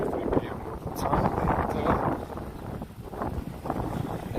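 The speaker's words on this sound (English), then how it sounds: "it's a little windy, but it's pleasant." Steady wind rushes through a New York City street on a clear spring afternoon, buffeting the microphone with a low, continuous roar. Muffled voices sit under it.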